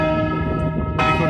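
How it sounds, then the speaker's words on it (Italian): Church bells ring out in Vendoglio, in the Treppo area near Udine, on a mild spring day, a sustained full peal with bright strikes swelling louder near the end and no voices. "è bello mentre suonano le campane, ci invitano proprio alla preghiera"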